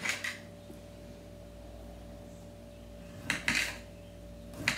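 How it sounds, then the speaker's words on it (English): Knife cutting sweet tomatoes in half on a board, a few short clattering cuts at the start and near the end with a quiet steady hum between them. "We'll slice them down the middle. Then slice them in half."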